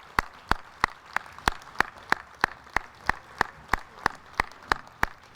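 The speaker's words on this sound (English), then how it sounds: "Let's give them a round of applause." Audience at the opening ceremonies of the 70th annual Choctaw Indian Fair clapping in an even, sharp rhythm, one evenly spaced clap after another with no talk.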